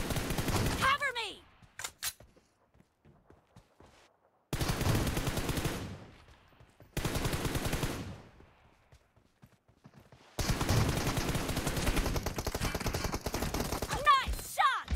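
Rapid automatic gunfire in PUBG Mobile during an M416 team deathmatch, several dense bursts separated by short silences, loud and close, with brief voices between.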